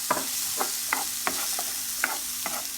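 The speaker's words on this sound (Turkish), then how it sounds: "İçerisine küçük küçük küp küp doğradığımız soğanlarımızı ilave edip kavuralım." Diced onions sizzle steadily in hot olive oil while a utensil scrapes and stirs the pan in regular strokes, close up with no voices.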